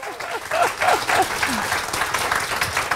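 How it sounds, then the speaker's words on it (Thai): Seminar audience claps after a business talk, a crowd of hands applauding steadily, with a few voices and cheers rising briefly over the clapping. "แล้วปรบมือนะคะ"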